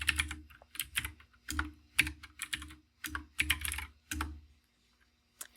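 Computer keyboard clattering in quick bursts of keystrokes, close and crisp, pausing briefly between flurries before falling silent at the end.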